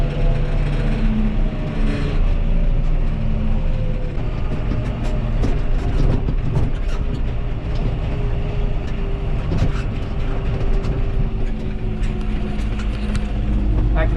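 A John Deere 7130 tractor drives along with a continuous low engine drone and gear whine, rattling and clunks breaking in as it works through its four gears; no talk is heard.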